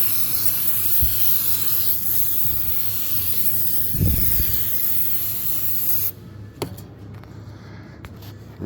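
Steady hissing spray from an aerosol cleaner can runs for several seconds over Mercedes MBE 4000 engine parts, with a few clunks and taps, then stops, leaving quieter handling noises.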